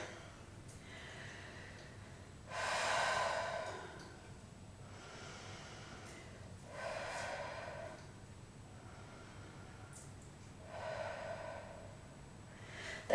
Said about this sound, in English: Taking a couple of deep breaths here